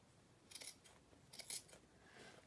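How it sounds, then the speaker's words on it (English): Scissors cutting along the seam of a denim jacket: two close, crisp snipping bursts about a second apart, each a quick double crunch through thick fabric, quiet and alone. "I want to just cut on the outside of that seam"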